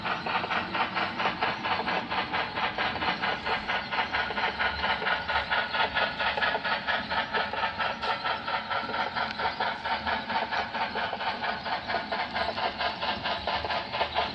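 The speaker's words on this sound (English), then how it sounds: "it's a Broadway locomotive, and I removed the factory decoder and replaced it with a soundtrack" An HO-scale Broadway locomotive with an aftermarket sound decoder chugs steadily with a rapid, even rhythmic beat and constant mechanical hum, close and continuous throughout.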